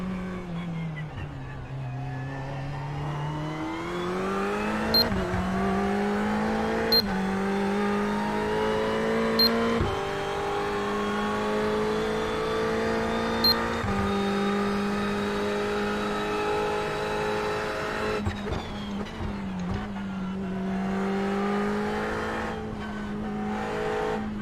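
A Corvette race car engine in an iRacing NASCAR Cup Series race at Pocono, holding a loud steady high whine with gear changes and slight pitch dips, small clicks, continuous throughout.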